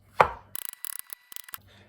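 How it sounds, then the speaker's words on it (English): Knife chopping mushrooms on a cutting board: one heavier thud, then a quick run of sharp, close taps in two short bursts, with no voices. "Do the same with the mushrooms."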